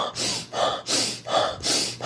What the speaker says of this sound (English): what you do is you do a couple of cycles of hyperventilation breathing.